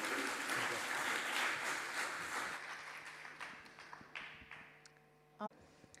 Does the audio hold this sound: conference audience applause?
yes